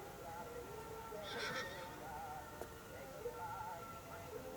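A horse whinnies once, a brief, fairly distant call over a dense, noisy background in a 1963 Soviet film; no voices are heard.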